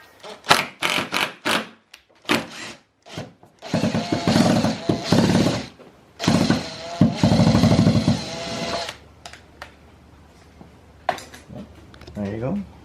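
A rivet nut is set into a Scion FRS fender with a hand tool, heard close as a series of sharp clicks and squeezes followed by grinding mechanical bursts, with people talking in between.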